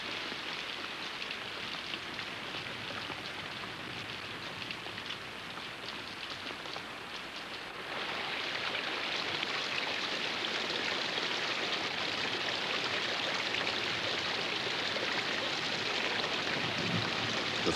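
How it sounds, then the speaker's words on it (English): Steady heavy rainfall in a rainforest, a dense hiss of drops on foliage that grows louder partway through and keeps pouring with no voices. "The forest floor can usually absorb rain as it falls"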